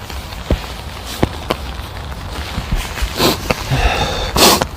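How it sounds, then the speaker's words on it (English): A few quick, breathy sniffles close by, scattered irregularly among soft rustling and shuffling noises, with a couple of louder nasal snorts near the end. "I'm sniffling on camera."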